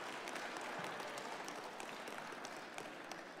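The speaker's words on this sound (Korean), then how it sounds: "여기서 박수 쳐주셔야 돼요." A church audience at a pastor's lecture claps continuously, with many hands in a steady, even patter throughout.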